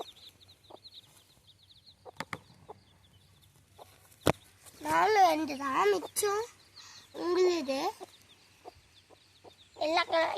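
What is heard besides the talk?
chickens clucking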